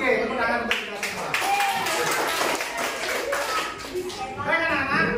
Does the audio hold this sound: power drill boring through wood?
no